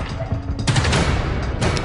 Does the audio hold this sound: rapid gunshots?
yes